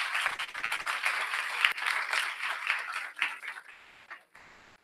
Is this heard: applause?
yes